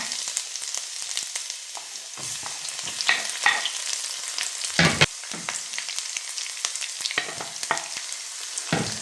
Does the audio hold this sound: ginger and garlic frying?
yes